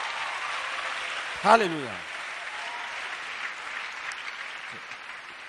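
A church congregation claps together for Jesus Christ during a French-language sermon, a steady wash of applause throughout with a brief voice calling out near the start.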